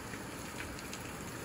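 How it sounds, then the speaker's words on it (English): Heavy rain comes up through a dirty sink drain as a steady, even hiss of falling water, with no talking. "It's raining heavily."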